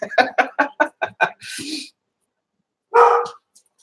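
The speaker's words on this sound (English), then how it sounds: "Quiet, dogs." Dogs indoors let out a quick run of about seven close, sharp barks, then a breathy whine and, after a pause, one more bark.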